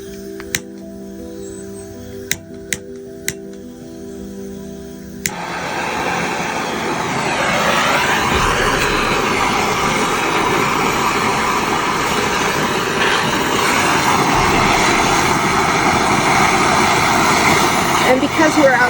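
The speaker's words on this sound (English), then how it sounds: "MAP gas burns a little hotter, which is great for this process." A MAP gas torch bursts into a steady, loud roar after about five seconds of quiet clicks and knocks, then burns continuously outdoors while heating work for a raku enamel firing.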